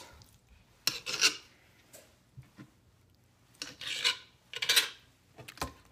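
A knife trims fat from raw boneless, skinless chicken breasts on a cutting board, giving several scraping, rasping strokes in short bursts with quiet gaps between them, close and moderately loud.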